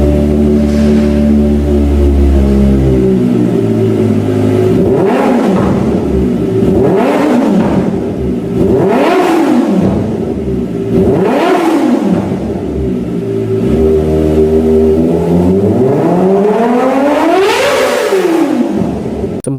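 A Kawasaki ZX25R motorcycle fitted with a GP Tech Zeus short exhaust idles, then is revved in a series of sharp blips that rise and fall, ending in a longer climbing rev, loud and close.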